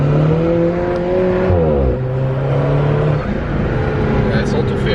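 A 2018 Alfa Romeo 4C sports car pulls hard from low speed, its engine note climbing through rising gear sweeps with a brief dip at a shift, loud and close from inside the cabin while people talk over it.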